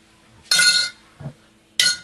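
A homemade sour cream mixture stirred in a glass jar: two short bursts of utensil clinking and scraping against the glass, separated by a small knock, close and clear with no talking.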